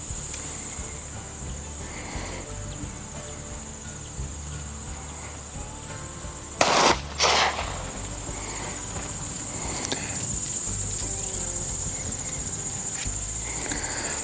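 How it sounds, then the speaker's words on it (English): One .40 Smith & Wesson pistol round fired at an outdoor range, a short distant-sounding crack with a quick echo, set against a steady drone of crickets and insects. "We're going to fire, and then we're going to clear the gun."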